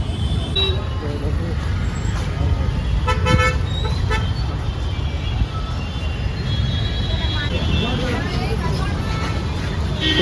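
Busy road traffic in Bangalore during rain, engine rumble and a dense wash of noise with several car horns honking in short bursts, near and far, while people talk throughout.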